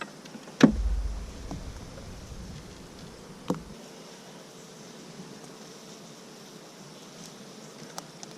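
Honeybees hum faintly and continuously around an open hive during an inspection, with a couple of sharp knocks and light handling sounds over the low buzz.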